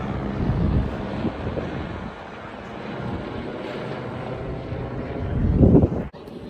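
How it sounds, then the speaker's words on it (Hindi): A helicopter flies past outdoors in Dubai, a broad rumbling roar that swells near the end and then cuts off abruptly, with wind buffeting the microphone throughout. "हेलीकॉप्टर जाता है।"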